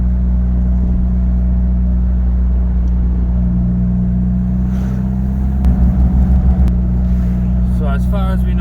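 A car drives through evening traffic, a steady low engine hum and road rumble from inside the cabin, with a brief louder pulsing rumble midway and a voice speaking near the end.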